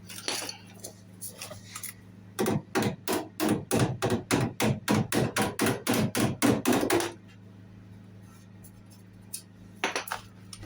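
Rapid series of about twenty sharp metallic hammer blows on a 1970 MGB GT body panel after welding, steady rhythm, close and loud, then quiet background.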